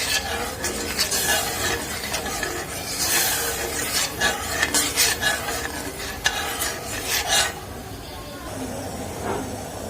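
Sugar syrup for sweet boondi cooks and is stirred in a pan, giving steady close scraping and sizzling strokes in an irregular rhythm, with a voice talking over the stirring.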